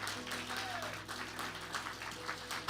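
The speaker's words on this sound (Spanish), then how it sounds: "¿Cuántos aplauden el nombre de Dios, hermano? Apláudalo fuertemente." Church congregation applauding together, a broad wash of many clapping hands at moderate distance, steady with small swells, over a low hum from the room.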